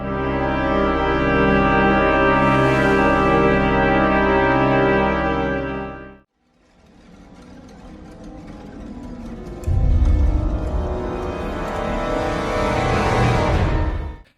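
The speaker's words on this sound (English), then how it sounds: "Now, if we stack these two chords with each other, it sounds like this." Two clashing chords stacked into a single polychord, sustained and loud with dense layered harmonics for about six seconds, then a brief gap before a darker, churning orchestral passage builds with heavy low-end weight.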